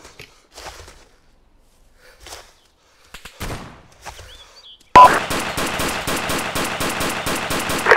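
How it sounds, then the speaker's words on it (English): Heavy machine gun fire in the Arma FDF mod multiplayer game bursts in loud and sustained after a few seconds of quiet, a dense rapid stream of shots that runs on without a break. "Fucking HMG opened up on me"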